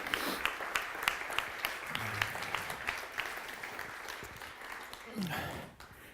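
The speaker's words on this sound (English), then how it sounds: "Can we give Ed a round of applause" Scattered audience applause at a photography workshop, individual claps audible as a loose crackle with some talk and murmuring underneath.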